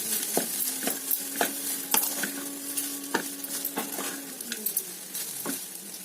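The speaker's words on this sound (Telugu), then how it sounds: "ఇలా కలిపేసుకుందామండి బాగా." Masala rice being stirred and tossed in a hot pan, with a spoon scraping and clinking in irregular strokes over a light sizzle, close and clear.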